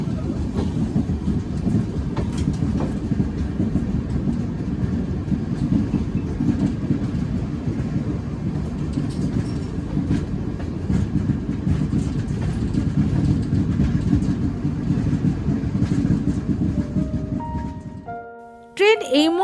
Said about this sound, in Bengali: আর এদিকে আমাদের ট্রেন শিলিগুড়ি পার করে ধীর গতিতে এগিয়ে চলেছে সেবকের দিকে